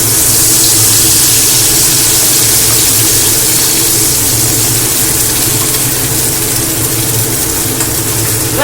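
Water runs to rinse out a mixer-grinder jar and pours into a cooking pan, making a loud, continuous rushing and splashing throughout with no speech.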